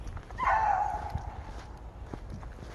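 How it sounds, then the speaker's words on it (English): Dogs bark outdoors behind someone at a lawn and landscape job, with one loud, drawn-out bark-howl early on followed by fainter shuffling and movement, and no talking. "dogs back there behind me."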